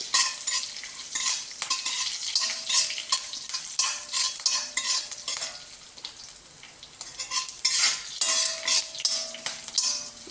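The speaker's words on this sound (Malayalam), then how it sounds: "ഇഞ്ചി ചെറുതായിട്ട് മൂക്കണം, അതാണ് നല്ലത്." Ginger and green chili fry in a pan for aval uppuma. Steady sizzling fills the whole stretch, broken by repeated scraping and clinking of a spoon stirring against the metal pan, close up and with no talking.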